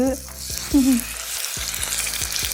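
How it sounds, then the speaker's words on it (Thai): Beef frying in a well-worn iron pan, a steady broadband sizzle with soft crackles and a few brief stirring clinks, close and moderately loud, with a short tonal voice-like sound early on. "เอาเนื้อลงไปทอดในกระทะได้เลยค่ะ"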